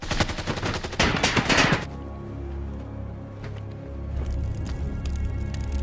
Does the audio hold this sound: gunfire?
yes